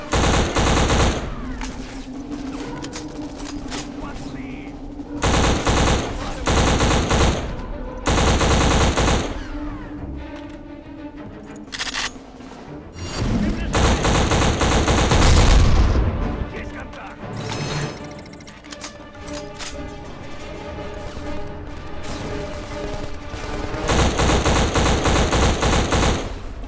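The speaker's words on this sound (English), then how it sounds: "machine gun!" Machine gun fire in the shooter Black, loud repeated automatic bursts of several seconds each separated by quieter gaps of game ambience, explosions and shouts.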